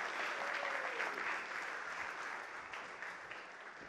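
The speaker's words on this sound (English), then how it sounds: "let's give them a real round of applause from your heart to theirs" A business conference audience claps warmly for the organizers, a dense, even wash of applause that tapers slightly and holds steady, with no one speaking.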